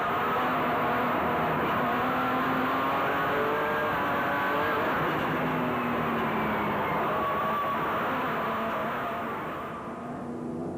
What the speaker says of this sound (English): Enjoy the ride on board Voss and Testega's proudly South African Nissan hardbody